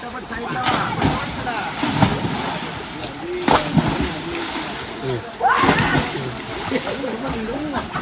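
Swimmers jump and dive into an outdoor swimming pond, sending up a few loud, close splashes amid ongoing sloshing water while people talk and shout nearby.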